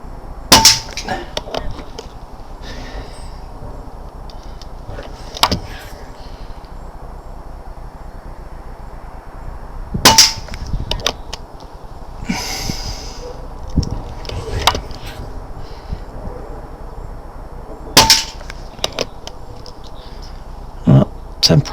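Daystate Air Wolf air rifle fires pellets at a target, a few sharp, separate cracks spaced several seconds apart over a quiet room background, each shot brief and loud with faint rustling between.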